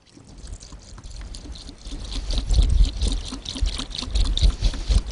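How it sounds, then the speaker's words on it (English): Water pours into a pot of chicken for chicken al carbone, a continuous splashing trickle that starts gentle and grows heavier and louder as the pot fills, with no voices over it. "So let's just add a little water, just enough that it tops it off."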